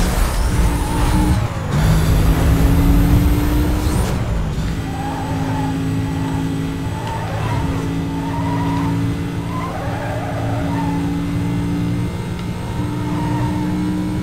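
Cars in the racing video game Need for Speed Most Wanted skid and crash, engines humming steadily with loud impact bursts and tire squeals early on, then a sustained engine drone with wavering tones.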